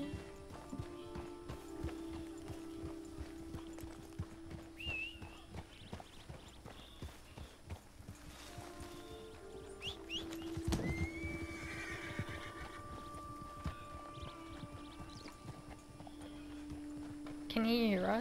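Horse whinnies and clip-clopping hooves from the video game Red Dead Redemption 2, a loud neigh rising near the end over steady hoofbeats, with game music and ambience underneath and a person talking.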